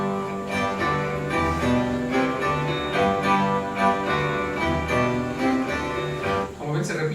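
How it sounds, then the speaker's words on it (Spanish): Chaconne in characteristic 17th-century style, dense ensemble of plucked and bowed instruments repeating a steady cyclic pattern at even loudness, ending with a brief softer moment near the close. "este es el sonido de la chacona"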